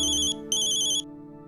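A phone rings with an incoming call, a bright repeating electronic ringtone in two loud bursts separated by a short pause, over a low steady background hum, with no talking.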